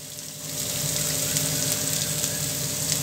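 Onions sautéing in a pan for Tamil cabbage poriyal, a steady close hiss and sizzle that swells after half a second and holds at an even level, with no voices.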